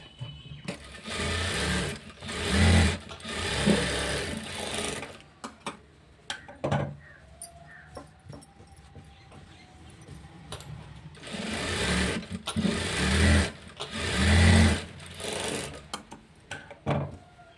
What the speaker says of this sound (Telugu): చూసారా ఈ విధంగా కుట్టుకున్నాం కదా.